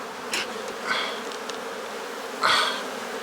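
Honeybees buzzing close by during an inspection of a four-box medium hive, with a few short loud passes as bees fly near, over a quieter steady hum and no talking.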